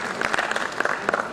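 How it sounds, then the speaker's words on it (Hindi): An audience applauds at the Bundeli Mahotsav 2023 stage event, with a short burst of dense clapping at moderate distance that fills the whole moment. "इस मुस्कान के लिए एक बार तालियों के साथ हम अभिनंदन करें डॉक्टर रंजना"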